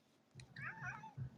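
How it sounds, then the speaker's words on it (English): A pet cat meows a couple of times close by, short harmonic calls rising and falling over a quiet room with faint low rumble. "that's my cat."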